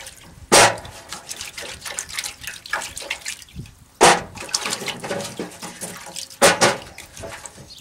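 Water splashing and trickling as soil is rinsed off freshly harvested vegetables at an outdoor garden washing station, steady running water broken by three louder splashes or gushes, close by with no talk.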